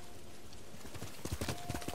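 Horse hooves clip-clopping as a mount approaches in the video game Ghost of Tsushima, a quiet start building to several distinct hoofbeats in a loose rhythm over the last second.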